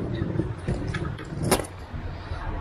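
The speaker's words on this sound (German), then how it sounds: "ein Auto fährt hier rein." A car drives in nearby during a walking trip in rural Germany, a rolling road rumble with a sharp metallic clatter about midway, loud and close.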